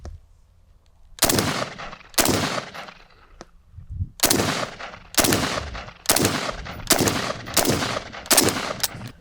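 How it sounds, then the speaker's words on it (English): An FN FNC rifle fires about ten loud, sharp gunshots at a target on a range, arriving singly at an uneven, roughly one-per-second pace with brief pauses, close and without speech. "So I'm just gonna shoot the bottom of the target just to see if we can get a little group here"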